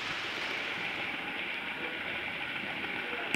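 A model train runs on a double-track club layout, giving a steady, even rolling hiss and rumble throughout, moderately loud and close with no pauses.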